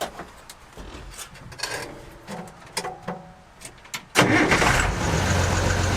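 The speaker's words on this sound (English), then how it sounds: "It sounds like a tractor." A 1970s farm diesel engine taken from a combine and fitted into a Ford F250 truck clunks and rattles, then fires up and settles into a loud, rough, tractor-like running rumble.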